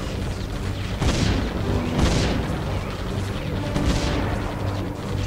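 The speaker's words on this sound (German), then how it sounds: "Nehmen wir Kanone, weil eine Kanone kann recht weit feuern." Cannon turret firing in the tower-defense video game Defense Grid: The Awakening, a few loud booming shots roughly a second apart over a dense, continuous game soundscape, with no talking.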